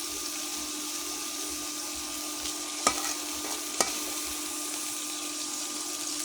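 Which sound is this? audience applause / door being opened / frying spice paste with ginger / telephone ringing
frying spice paste with ginger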